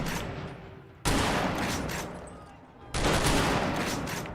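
Gunshots in a modded Fallout game, two loud, sudden blasts roughly two seconds apart, each followed by a sustained rumbling tail of echoing fire.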